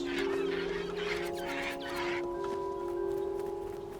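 Birds in the adventure game Broken Age: a flurry of chattering, clucking calls in the first half over sustained steady music tones that continue alone afterward.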